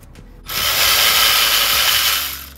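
Power tool loosening 16 mm rear brake caliper bolts on a BMW E92 M3, a loud, close whirring burst lasting about two seconds after a brief quieter start.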